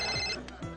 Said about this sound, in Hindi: अरे यार इस वक्त कौन फोन कर रहा है?